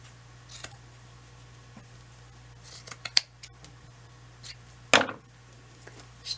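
Scissors cutting long strips of material for a shabby chic heart-shaped wreath, several crisp, close snips spaced irregularly over a low steady background hum, with one louder rustling cut near the end.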